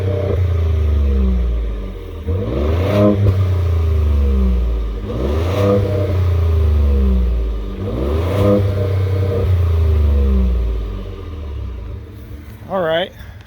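A Ford F-150 with a 3.5 EcoBoost engine and a resonator exhaust idles with a deep rumble, then revs three times in evenly spaced bursts that rise and fall, close and loud.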